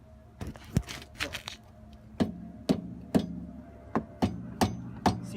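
A hammer strikes the underside of a car's right side in a series of sharp taps, each followed by a brief metallic rattle, irregular at first and then coming roughly every half second; fairly quiet and close.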